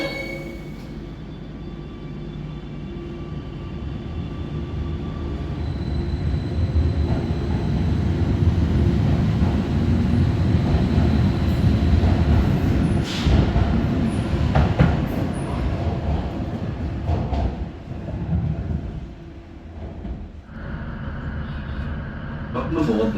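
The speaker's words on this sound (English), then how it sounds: "Welcome aboard this Northern Train to Seaburn." Northern passenger train running on the rails toward Seaburn, a steady rumbling interior roar with rising and falling wheel and motor noise, a brief clatter midway, and an onboard announcement voice over it.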